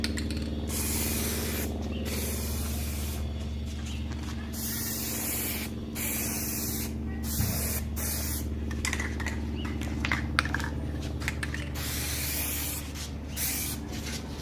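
A spray can lays Plasti Dip onto a car tail light in repeated close hissing bursts, each spray a few seconds long with short pauses between them.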